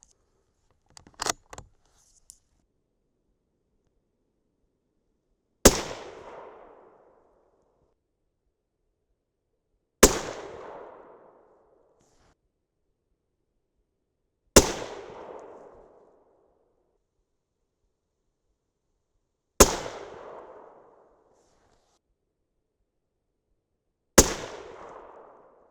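A 6.5 Creedmoor rifle firing 129-grain Nosler Accubond handloads over Reloder 17 powder lets off five sharp, loud shots about five seconds apart, each cracking and then decaying quickly, after a few faint clicks at the start.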